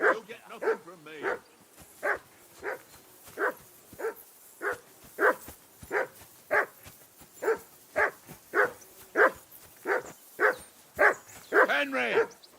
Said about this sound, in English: That mutt of yours to stop barking, will you?